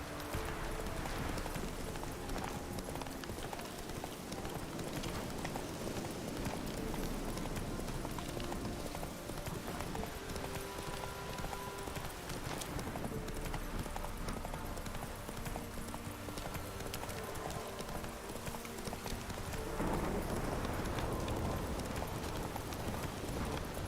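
The horse Roach gallops steadily through The Witcher 3, hooves clip-clopping in a fast continuous rhythm against a constant game ambience, loud throughout.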